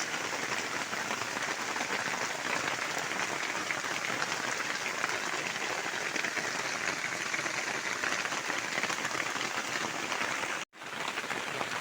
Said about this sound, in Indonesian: Sekarang lagi hujan.